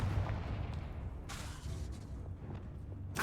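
A Confringo blasting spell from the Hogwarts Legacy video game goes off with a booming burst, followed by rumbling combat noise and a second sharp blast at the end.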